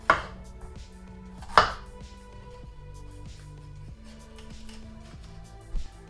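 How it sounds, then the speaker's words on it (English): A knife chops through a capsicum while cutting out the seeds, with two sharp, distinct cuts near the start followed by quieter handling and a faint tap at the end. "you want to start off with the capsicum by taking out the seeds."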